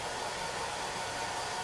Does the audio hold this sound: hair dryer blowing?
yes